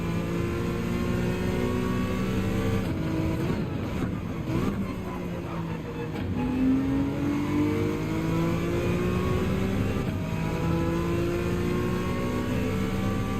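A race car engine in Gran Turismo 7 on the Catalunya circuit drones loudly and climbs steadily in pitch through the gears, with brief dips at shifts and a voice talking over it.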